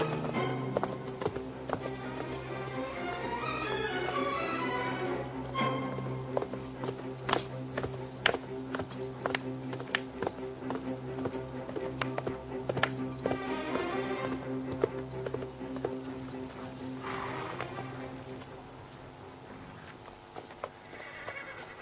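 Horse hooves clip-clop in a steady, fairly close rhythm, with horses neighing and whinnying among the hoofbeats and no talk over them.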